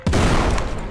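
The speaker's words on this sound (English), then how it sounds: "Get out the old shotgun." A single loud shotgun blast in the first-person shooter game Forgive Me Father, close and sharp, with a booming body that decays over about a second.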